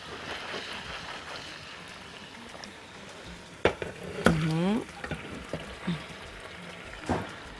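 Food sautéing in a pan with meat gives off a soft, continuous sizzle, broken by a few sharp knocks and stirring clatters partway through, with a brief voice-like tone among them.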